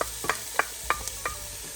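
Diced yellow onion sautés in extra virgin olive oil with minced garlic, a gentle background sizzle broken by a rhythmic series of spoon scrapes and taps against the pan.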